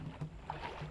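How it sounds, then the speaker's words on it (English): Log canoe rowed with oars through flooded trees on an Amazon river, with soft water splashes and wooden knocks in steady rowing rhythm against outdoor ambience. "So we're basically using the oars to go through all of this area."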